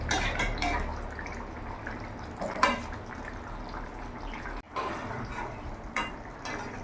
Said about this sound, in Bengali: এবার মাছ দিয়ে আমি কিছুক্ষণ ফুটিয়ে নেব।